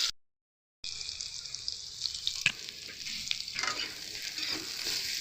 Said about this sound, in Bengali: চলুন ভালো করে এবার আলুটা ভেজে নিই